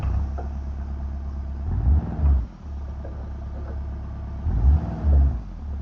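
A Volkswagen Passat in a driving video game idles with a low engine drone. Two short revving swells rise and fall, one near the start and one near the end.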